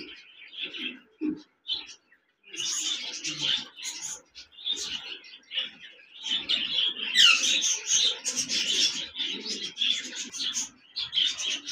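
Cockatiels at a bird farm chirp and whistle almost without pause, several birds calling over one another in bright overlapping bursts, close by, with a few low sounds underneath.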